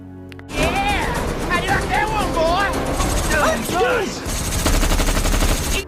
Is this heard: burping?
no